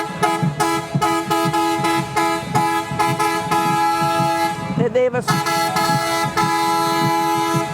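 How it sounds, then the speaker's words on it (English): Antique beer barrel truck in an Independence Day parade blasts a loud, multi-tone horn in long repeated toots with short gaps, close and dominant, with a brief break midway and a murmur of crowd underneath. "They have a loud horn. They have a good horn"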